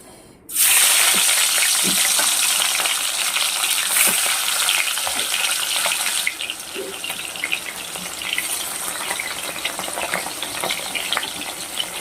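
Pieces of Japanese puti fish drop into hot oil, setting off a sudden loud hiss that holds as a dense, steady sizzle and eases slightly partway through.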